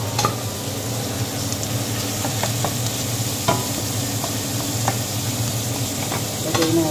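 Chicken sautéing in a pot for arroz caldo, giving a continuous close sizzle with frequent stirring scrapes and occasional light knocks, no talking.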